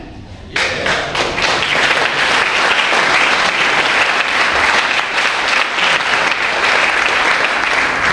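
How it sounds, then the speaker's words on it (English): A crowd at an awards ceremony bursts into loud, sustained applause for the award winners, starting abruptly after a brief quiet moment and continuing strongly with scattered thuds and claps. "I'd love you to praise and applaud to our amazing award winners and celebrate their successes with us."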